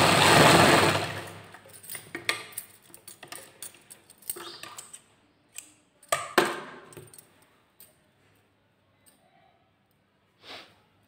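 A sewing machine stitches pleats into an Afghani salwar, opening with a loud whirring run, then short irregular bursts of stitching and clicks that fade to near silence with a last brief whir.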